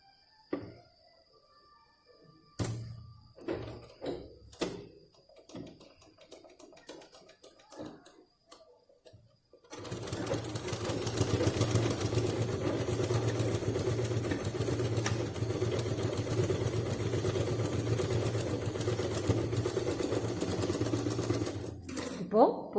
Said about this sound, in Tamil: இப்போ அடிபாகத்தில் ஒரு தையல்.